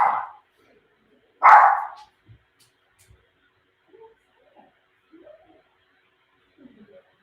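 Two sharp, loud dog barks ring out close by, followed by quiet shuffling and faint soft sounds.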